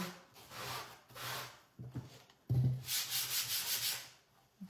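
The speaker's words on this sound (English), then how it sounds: "I'm just going to gently go over this. See if we can scuff some of that black writing and make it a little bit more distressed." A painted wooden sign is rubbed by hand to scuff and distress its black lettering, giving soft, faint scratchy strokes in an uneven rhythm that turn quicker and denser toward the end.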